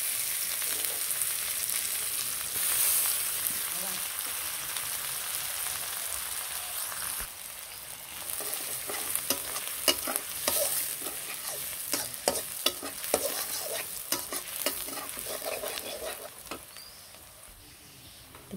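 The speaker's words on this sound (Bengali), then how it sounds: "এখন পেঁয়াজ দিয়ে দিলাম, পেঁয়াজগুলো একটু লাল লাল করে হবে।" Onions fry in oil with bay leaf, cloves and cardamom for pulao, a steady crackling sizzle broken by repeated close scraping and tapping of a stirring spoon, with no speech.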